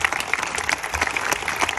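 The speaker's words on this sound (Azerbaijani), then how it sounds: "Bir alqışlayaq senaristlərimizi." Audience applause for the screenwriters at a film event, a dense burst of many hands clapping steadily and fairly loud, with no talk over it.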